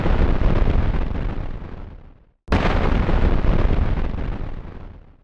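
Artillery shells exploding in a relentless barrage on a barren, blackened mountain top in the Spanish Civil War, two loud sustained blasts of deep rumbling roar separated by a brief silence, close and overwhelming.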